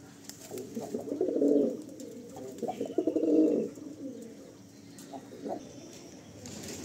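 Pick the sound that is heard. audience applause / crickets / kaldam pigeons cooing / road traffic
kaldam pigeons cooing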